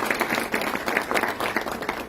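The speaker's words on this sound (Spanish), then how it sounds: "Un aplauso, por favor, para el doctor." An audience at a court oratory contest event claps for a doctor, a moderate, steady patter of many hands with a slightly uneven rhythm, heard at some distance in a hall.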